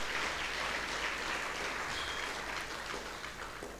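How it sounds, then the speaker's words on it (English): Faint, distant applause from an audience at the University of Venda 40th anniversary celebration, a steady patter of clapping that thins slightly toward the end, no talk over it. "we deserve a very big round of applause"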